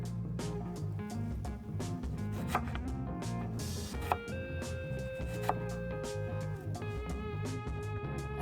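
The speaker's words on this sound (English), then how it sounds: "I'm slicing the potatoes slightly wider than 1/4 inch." A knife slices through potatoes on a cutting board, cut a little over a quarter inch thick, giving soft repeated chopping taps and scrapes at close range, quiet and steady over a faint background hum.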